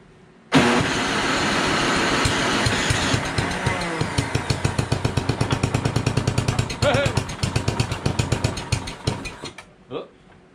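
An engine is started with a button: a loud, rapid mechanical cranking that settles into uneven chugging pulses, then sputters, chokes and dies away.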